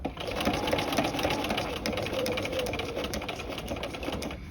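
A sewing machine runs steadily while stitching fabric for a V yoke, shortening to a 0.5 stitch length near a corner, a continuous close whirring hum with a faint rhythmic clatter throughout.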